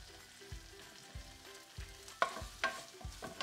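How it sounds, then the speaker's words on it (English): Cubed butternut squash and spinach sauté quietly in a pan, a faint soft sizzle with a few low thumps and sharper clinks of the utensil, no voices. "butternut squash and kind of saute that all together"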